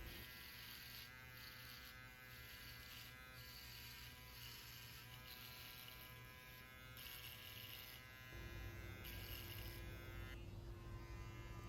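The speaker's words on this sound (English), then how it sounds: "Now we're going to use the Whal Shaver." A Wahl electric shaver buzzes steadily against skin during a fade haircut, a close continuous whine with faint pulsing as the blade moves, its tone shifting partway through.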